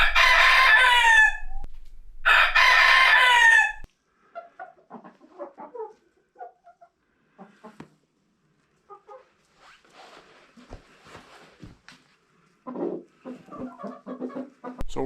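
Rooster crows twice loudly inside a barn horse stall used as a chicken pen, followed by scattered soft clucks and rustling from chickens nearby.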